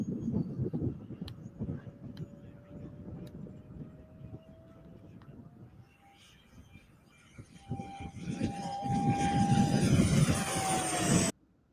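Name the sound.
twin-fan radio control model airplane flying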